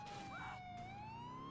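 Police car siren wails in Need for Speed Most Wanted, a clear rising and sweeping electronic tone with a brief warble, sustained and prominent over quiet game audio.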